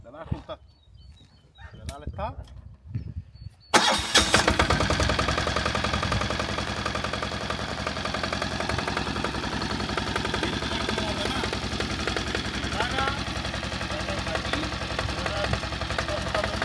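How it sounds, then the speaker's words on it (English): A BCS two-wheel tractor engine starts up after a few quiet seconds with scattered noises, then runs steadily and loudly, chugging at an even idle. "So here it is, BCS two-wheel tractor."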